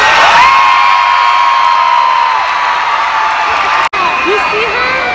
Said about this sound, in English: Some big applause and screaming and yelling in